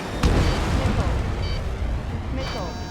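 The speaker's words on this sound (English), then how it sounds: "Strider 3 launching missile." A missile launch in the Ace Combat 7 flight game: a loud, sustained roaring whoosh over constant jet-engine noise, with radio voices talking over it.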